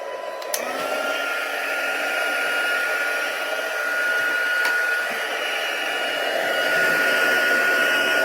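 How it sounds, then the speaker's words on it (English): Heat tool for melting embossing powder blowing steadily and loudly up close, a continuous whooshing fan roar with a faint whine running unbroken for the whole stretch. "then I'll get out my heat tool"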